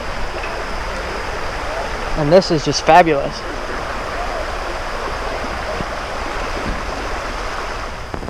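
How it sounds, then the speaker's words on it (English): A small creek runs beside a campsite with a steady, close rushing hiss throughout, and a person speaks briefly partway through. "we're gonna wake up in the morning to the sound of this little creek right here"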